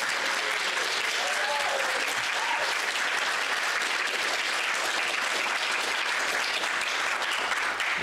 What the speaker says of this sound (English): Let's give another round of applause to our student award winners.